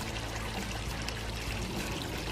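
Water from a running garden pond filter pours and trickles steadily, a continuous close splashing rush with no pauses.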